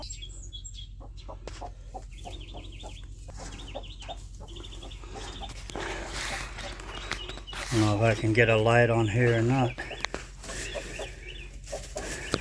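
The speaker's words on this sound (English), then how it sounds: "it's a black hen" Broody black hen sitting on eggs in a dark nest: low, repeated clucking and a longer grumbling call, with someone talking nearby and other birds chirping in the background.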